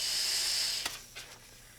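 Compressed air hisses from an air nozzle into the small hole in the end of a rubber grip. It is a steady, close hiss lasting under a second, followed by a couple of faint puffs.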